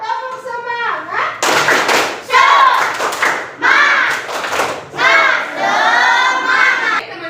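A class of schoolchildren does a rhythmic group spirit clap, with loud bursts of shouted chanting and clapping in a patterned sequence, led by a teacher's voice.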